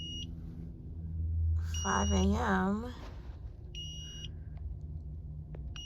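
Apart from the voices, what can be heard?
beeping from a power inverter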